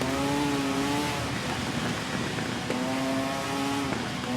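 Motorcycle engine at half throttle racing around the Isle of Man TT course in a video game, a steady loud drone whose pitch holds level, drops away, then rises again near the end.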